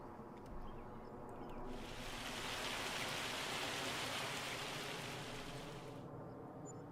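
Steady rain in the farming video game Farming Simulator 25, a soft, even hiss that swells in the middle and eases off again, with no other sounds over it.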